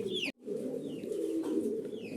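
Low, throaty cooing from a pair of tumbler pigeons runs steadily through the clip, broken by one brief silent gap, with a few faint higher chirps in the background.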